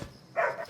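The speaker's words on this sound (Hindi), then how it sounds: "अरे क्यों भौंक रहा है?" A single short dog bark, moderately close, rises out of a quiet room at night and fades quickly.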